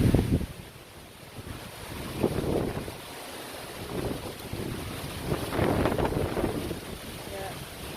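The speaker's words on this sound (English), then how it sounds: "It just keep blowing. We call it habagat. The habagat wind." Strong habagat monsoon wind in the Philippines buffets the microphone near a boat on rough sea, roaring in gusts with wave wash underneath; a faint voice is heard briefly.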